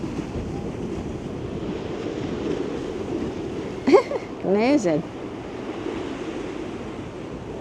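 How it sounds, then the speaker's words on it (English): Sea waves roll down the promenade steps at Blackpool in a steady wash of surf under gusting wind noise, with a brief spoken exclamation and another voice in the middle. "Can you see the waves rolling down the steps?"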